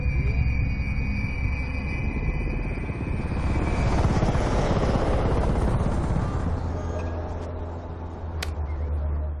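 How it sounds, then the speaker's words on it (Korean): Helicopter flying overhead in a film scene, a continuous loud rotor thrum and engine roar that swells toward the middle and holds steady, with a faint tick near the end. "이때 헬기 소리를 듣고 개꿈에서 깬 라리사."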